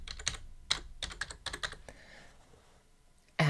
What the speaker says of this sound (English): I could, for example, type in Killybegs